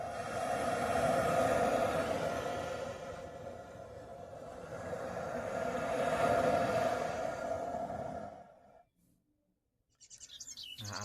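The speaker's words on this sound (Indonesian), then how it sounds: "Nah, suara laut." The sea effect from the Hyptec HT car's rest-mode sound menu gives two slow swells of washing wave noise rising and falling, then cuts abruptly to near silence before another sound begins.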